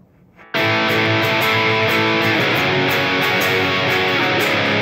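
Distorted electric guitar drives through the bridge of a song at full tempo, bursting in after a brief quiet moment and holding a dense, loud, steady wall of sound with rhythmic accents.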